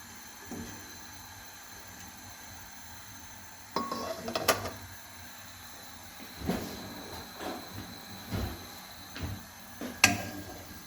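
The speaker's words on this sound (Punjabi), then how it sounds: "ਫਰਾਈ ਪੈਨ 'ਚ ਭਿੰਡੀ ਐਦੀ ਪਾਵਾਂਗੇ ਭਿੰਡੀ ਨੂੰ ਐਦੀ ਰੋਸਟ ਕਰਨਾ ਅਸੀਂ ਤੇਲ ਤੋਂ ਬਿਨਾਂ" Okra dry-roasted in a frying pan without oil, a spatula scraping and clinking against the metal in a few scattered strokes over a steady low background hiss.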